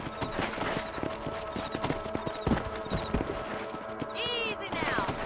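Horse hooves clip-clop at a steady trot while riding in the Western video game Red Dead Redemption, with a horse whinny near the end and spoken dialogue running over them.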